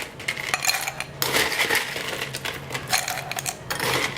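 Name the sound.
ice cubes being put into glasses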